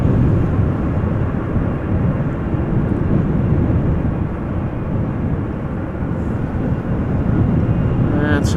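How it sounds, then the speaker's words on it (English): Boeing 747 of Atlas Air readying for takeoff on runway 24 at Amsterdam Schiphol during a storm: a loud, continuous low jet roar mixed with wind, with no break across the stretch. "it looks like a Queen is ready to take off from runway 24"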